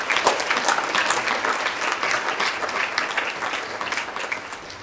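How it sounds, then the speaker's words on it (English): A large audience at a Jewish Community Relations Committee annual meeting breaks into sustained, dense applause that fills the room steadily, tapering slightly near the end. "please join me in giving a round of applause for my team"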